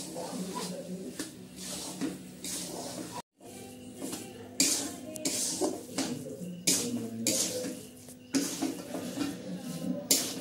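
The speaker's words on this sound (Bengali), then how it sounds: "এটাকে কিছুক্ষণ নাড়িয়ে নেব, এটাকে নিয়ে শুকনো করতে হবে একদম।" Carrot halwa stirred in a pan, a metal spoon scraping and clinking against the pan in an irregular rhythm, close by and moderately quiet.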